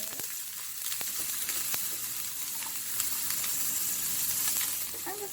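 Steady, soft sizzling of fried rice frying in a pan as carrot goes in, a continuous hiss with a few faint clicks of utensils, close and unbroken by talk.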